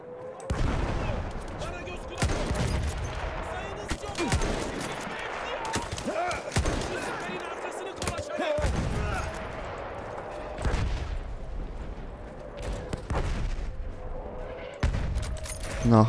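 Bursts of rapid gunfire in Battlefield 1 crackle in clusters with short pauses between, separated by dull thuds, and a voice speaks intermittently over the shooting.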